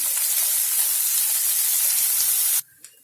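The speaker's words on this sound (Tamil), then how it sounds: "போட்டு கொஞ்ச நேரம் வறுக்கலாம் எண்ணெயிலேயே கொஞ்சம் ஃப்ரை ஆகட்டும்" Jackfruit seeds frying in oil, a loud, dense continuous hiss and sizzle that cuts off abruptly near the end, followed by a brief faint click.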